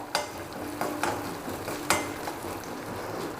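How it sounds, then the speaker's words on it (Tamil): Oil sizzles steadily in a pan as urad dal lentils fry, while a spoon stirs, scraping against the metal in occasional sharp clicks. "இந்த உளுத்தம்பருப்பை அப்படியே எண்ணெயில் போட்டுருணும். நல்லா சிவக்க வறுக்கணுங்க."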